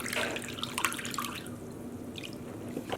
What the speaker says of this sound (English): I am going to place it in another basin so that way we can go and wash all this fiber with cool water